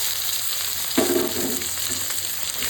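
Chopped onions fry with whole spices in hot oil, a steady close sizzle with a brief burst of stirring scrapes near the middle, no talking.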